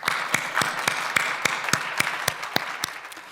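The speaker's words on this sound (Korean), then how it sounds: "우리 다 같이 하나님께 큰 박수로 영광 돌리도록 하겠습니다." A church congregation at a dawn prayer service claps in unison, in steady rhythmic beats about three per second, filling a large room.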